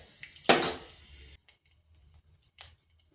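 Nigella seeds hit hot oil in a kadai, giving a sudden loud crackling sizzle that fades within about a second, followed by quiet with a few faint clicks and a brief later spatter.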